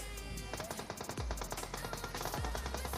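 Automatic gunfire rattles in a battle royale shooter, a dense steady stream of rapid shots over constant game background noise, moderately loud.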